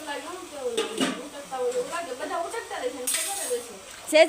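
Dishes and utensils clink and scrape during washing at home, in short irregular bursts over several seconds, with a voice talking over much of the clatter.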